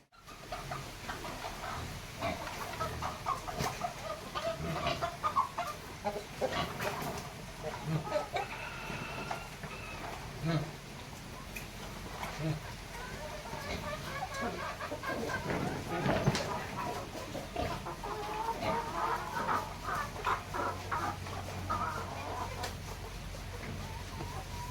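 Dekalb Brown and Rhode Island crossbreed chickens cluck and chatter near and far in a farmyard flock, with repeated overlapping calls and a brief crow-like cry partway through, while faint voices murmur in the background.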